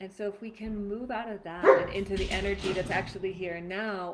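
Dogs bark and yip in the background of a home setting, a few short barks cutting in midway beneath a woman's steady, close talking.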